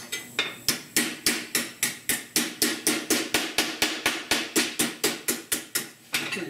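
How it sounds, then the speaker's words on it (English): Rapid, evenly spaced metallic strikes of an air planishing hammer shaping sheet metal for a custom A/C dash vent, about twenty sharp close blows in a steady rhythm. "I'm done air hammering"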